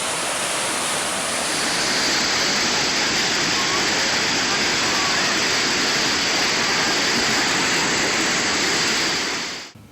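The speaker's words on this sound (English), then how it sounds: "You can see the muddy water racing underneath this bridge." Muddy floodwater from a flooded brook racing under a bridge in downtown Brattleboro, Vermont, a loud, dense, continuous roar that holds steady before cutting off abruptly at the end.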